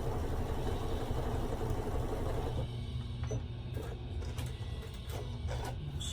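A sewing machine stitches orange fabric for a scrap quilt, giving a steady mechanical whir that is dense and busy at first, then thins into a lighter, intermittent running hum.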